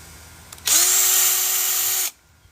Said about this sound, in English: If you are using an impact drill, which I am